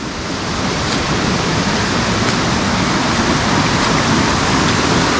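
A stream flowing steadily, a broad continuous rush of water that is loud and close, unbroken throughout with no voices.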